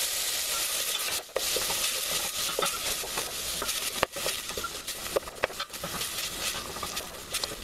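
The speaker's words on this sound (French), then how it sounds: "Et je vais faire revenir les oignons" Onions sizzle and patter steadily in butter in a hot pan, with occasional stirring scrapes. Nobody speaks.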